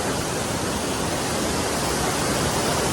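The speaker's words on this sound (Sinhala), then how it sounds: "ඉන්නේ ඩන්සිඩන් වෝටර්ෆෝල් එක ගාව" Dunsinane waterfall in Nuwara Eliya, swollen with water after rain, roars as a steady, loud broadband rush that fills the whole stretch without a break and with no voices.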